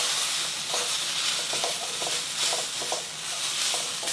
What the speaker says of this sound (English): we're stir frying this for about 30 seconds